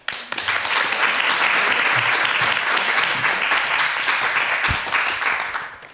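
A hall audience at an ethics-awareness contest final breaks into loud, sustained applause for the participants: dense, even clapping that holds for several seconds and then tapers slightly.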